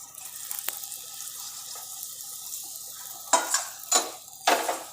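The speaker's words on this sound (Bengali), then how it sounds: "এরকমভাবে ডালপুরি ভেজে দেখো" Dal puri frying in a little oil in a home kitchen: a steady, faint sizzle runs throughout, broken near the end by three louder bursts of crackling and spattering as the dough is turned or moved.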